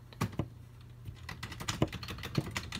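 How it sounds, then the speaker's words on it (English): Rapid typing on a computer keyboard up close: irregular clacking keystrokes in quick bursts, loud and clear, with a faint steady hum beneath and no voices. "I can't type quietly."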